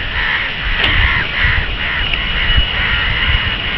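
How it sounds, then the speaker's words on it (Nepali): Crows caw repeatedly over a rainy Kathmandu neighbourhood, several harsh calls rising and falling at a moderate distance above a constant wash of rain and background hiss. "कागहरू आज निकै"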